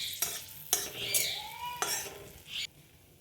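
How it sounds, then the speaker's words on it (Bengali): Cumin, dried chilli and bay leaf temper in hot oil, a bright sizzle underlying close spoon strokes scraping and clinking against the pan in several quick bursts. "ফোড়ন একটু নেড়ে চেড়ে নেওয়া হলো"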